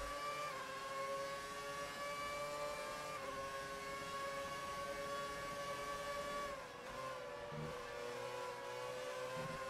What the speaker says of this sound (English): V8 high-pitched squeal noise.